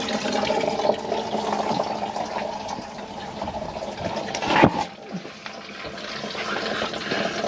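Engine coolant drains into a bucket during head gasket preparation, a steady splashing trickle of liquid with one brief louder splash or clank midway.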